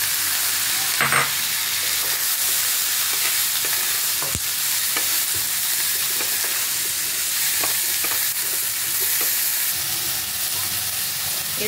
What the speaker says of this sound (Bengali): এবার দিয়ে দেবো আমি উচ্ছেগুলো।